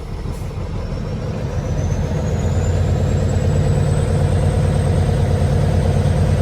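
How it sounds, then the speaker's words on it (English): A heavy truck engine idles loudly and steadily, with a rising whine climbing slowly in pitch as the air compressor builds brake pressure, no voices. "My governor has just cut in. I see my needle rising, telling me my system is building air pressure."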